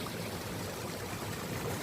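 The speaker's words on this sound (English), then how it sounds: "We've got a little waterfall there" A little waterfall stream on the Cornwall coast path, short of the cliff edge, gives a brief continuous rush of flowing water, close and steady, without voices.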